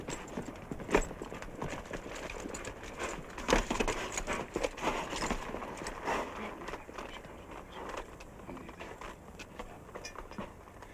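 A horse's hooves clip-clopping at a walk, a loose irregular run of hard knocks at moderate distance, with faint background sounds and no clear talk.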